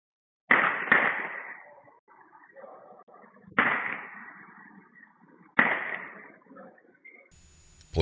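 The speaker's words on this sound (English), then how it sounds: "As it drives away, additional gunfire can be heard." Several sharp, distant cracks ring out with echoing tails, a close pair followed by two more spaced a few seconds apart.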